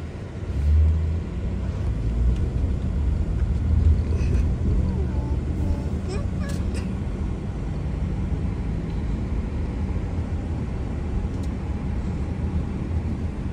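Steady roar of car traffic passing on a road outside a Walmart warehouse store, a continuous low rumble filling the whole stretch with no pauses between vehicles.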